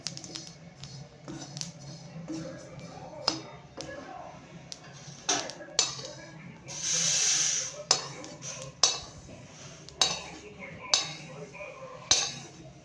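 A utensil scrapes and taps in a pan as roasted sesame seeds are scooped out for a chutney, with repeated clinks, steady scraping and a brief hiss midway.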